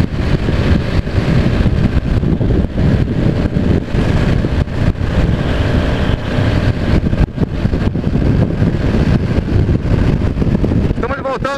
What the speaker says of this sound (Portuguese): enchendo o motor!